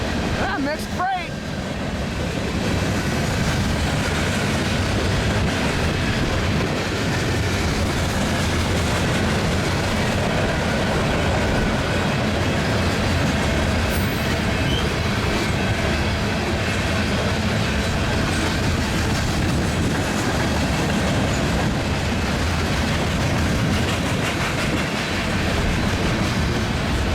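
A long mixed freight train rolls past on a crossover from track 1 to track 2 on a windy day. A steady, loud rumble of wagons and clacking wheels fills the whole span, with wind buffeting and an occasional voice underneath.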